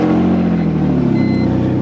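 A BMW E46 car engine with an exhaust leak drones loudly up close, its raspy, rough exhaust note rising briefly as it revs for about two seconds.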